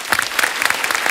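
Clapping from a studio audience on a comedy talk show, a short burst of close, crisp individual claps merging into steady applause, with no one talking over it.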